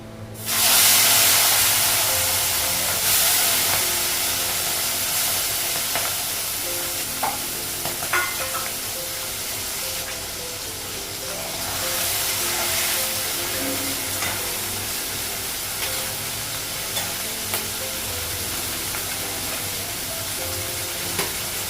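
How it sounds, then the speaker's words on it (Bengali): Tengra fish with turmeric frying in a pan, a loud spattering sizzle that flares sharply at the start and then settles into a steady hiss with occasional pops and crackles, close up with no talking. "মাছ ভাজাটা হয়ে গেছে"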